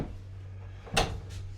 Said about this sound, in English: Pull out drawers down below.